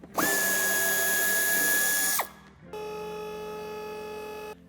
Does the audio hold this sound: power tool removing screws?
yes